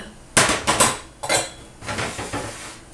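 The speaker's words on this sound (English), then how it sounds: "Let's just keep stirring." A spoon clanking and scraping against a cooking pot while stirring cranberry sauce, with several sharp metallic knocks followed by softer scraping strokes.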